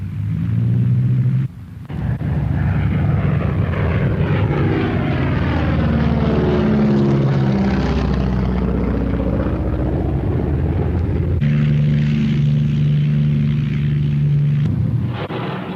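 Avro Lancaster bomber engines roar in flight, a loud, steady multi-engine propeller drone whose pitch sweeps slowly as the aircraft passes, with brief dips at the start and end.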